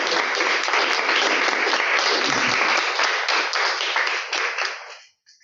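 Sustained applause from a lecture audience, dense and steady clapping filling the room for about five seconds before tapering off and stopping.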